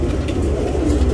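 A tournament-class pigeon in Bangalore, India coos steadily in low, throaty tones throughout, close by with no talking.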